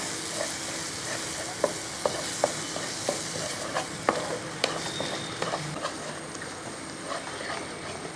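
Grated coconut being stirred into jaggery syrup in a pan, with a soft continuous sizzle and bubbling plus scattered scraping taps of the spoon against the pan, quiet and close.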